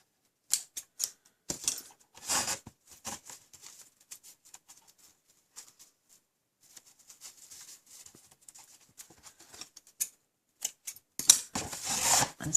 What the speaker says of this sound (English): So snip the ends off.